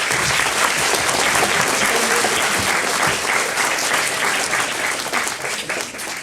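A large audience at a Mallareddy university event claps loudly and continuously, a thick sustained wash of many hands that tapers only slightly near the end.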